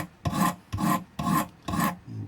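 A knife blade is drawn across the stones of a Wicked Edge guided sharpener, giving four distinct, evenly spaced gritty rasping strokes, close and clear with no voices.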